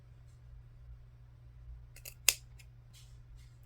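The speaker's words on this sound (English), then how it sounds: "I remember seeing people just cut them to the edge right here" A single crisp snip of scissors trimming punch needle yarn loops on a mushroom coaster, close and brief against a quiet room with a low steady hum, a couple of faint softer cuts around it.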